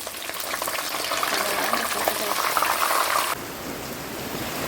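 Heavy rain pours in Modasa, Gujarat, as a steady, dense, close wash of falling water that stays loud and even throughout, with no voices.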